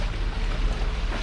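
A boat's starboard engine runs alone at a steady, loud drone, a constant low rumble mixed with broad wash-like noise and no break in tone.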